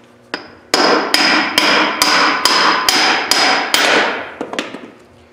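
Hammer tapping a part out of an NV273F transfer case, eight sharp metallic blows at a steady rhythm, loud and close with ringing tails, followed by a few lighter clinks and no talk.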